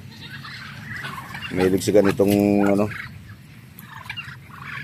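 Turkeys on a Filipino backyard farm raising turkeys, chickens and ducks give a short burst of loud, rattling gobbles near the middle, with a person speaking briefly before and after.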